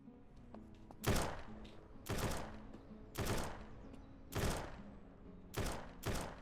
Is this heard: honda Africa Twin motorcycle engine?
no